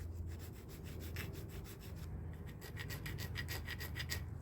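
Rough, rasping scrapes of something rubbed back and forth over a gritty, abrasive brake pad surface, a steady run of short strokes, close up and fairly quiet.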